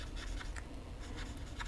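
A brush-tip marker scratches softly across a card while coloring in leaves, in short repeated strokes at a steady rhythm, close and quiet without talking.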